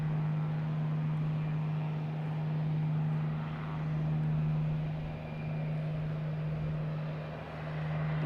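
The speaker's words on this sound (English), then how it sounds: "It is a Boutique Air coming in." A Boutique Air plane arriving at Boston Logan Airport, its steady low engine drone holding throughout with a strong low hum and gentle swells in level, heard from a spotting position outdoors.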